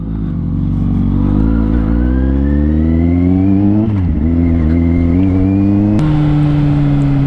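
A loud, close motorcycle engine revs continuously on a road ride, its pitch climbing and dropping as it shifts through gears, with no talking.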